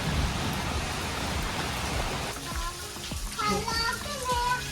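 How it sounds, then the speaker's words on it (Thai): Rain falls at a Buddhist temple in Loei, Thailand, a steady broadband hiss of downpour that carries through the whole stretch, with brief voices and scattered sharper sounds breaking in over it during the second half. "ติดฝนกัน"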